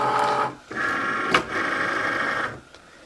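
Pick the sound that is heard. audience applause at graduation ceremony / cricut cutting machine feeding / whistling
cricut cutting machine feeding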